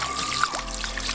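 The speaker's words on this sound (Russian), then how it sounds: "просто вот так оставляя под проточной водой" Salted bream fillets rinse under running tap water, a short, steady trickling pour with splashy texture and no talking.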